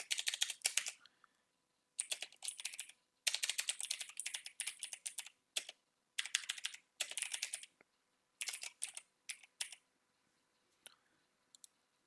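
Bursts of computer keyboard typing, quick clustered clicks in several runs separated by short pauses, entering a title for a PowerPoint exam exercise; close and fairly quiet, with no talking.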